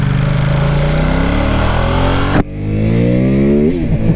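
A 2016 Ducati X Diavel S motorcycle engine revs loudly and accelerates hard, its pitch climbing before an abrupt gear shift, then climbing again as the bike pulls away, recorded close up.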